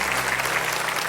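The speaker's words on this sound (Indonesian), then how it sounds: "Boleh tepuk tangan, bebas." Studio audience at a TV comedy show applauding, a steady dense wash of clapping throughout, loud and continuous with no break.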